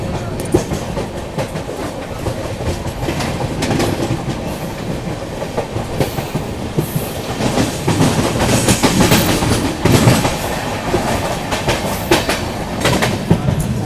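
A Sealdah–New Delhi Rajdhani Express passenger train rumbles steadily along the tracks, heard from the door of a 3rd AC coach, loud and close, with rhythmic clickety-clack from the wheels throughout.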